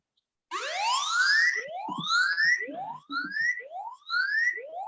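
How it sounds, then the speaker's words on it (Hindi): A repeating electronic siren wail from a phone alarm app sweeps upward again and again in quick rising tones, played loudly from the phone's small speaker, with faint handling noise underneath. "आप देख सकते हैं यहाँ पे सायरन बज रहा है"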